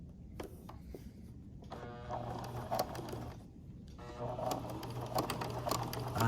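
A sewing machine stitches a 5/8 inch seam in a steady, close whirring run, stopping briefly partway and then starting again, with faint handling noises and no talk.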